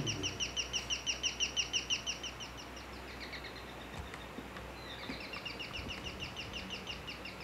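A bird sings in the video game Outlast, quick rhythmic chirping phrases that are clear at first, fade after about two seconds, then return more faintly near the end, with no talking.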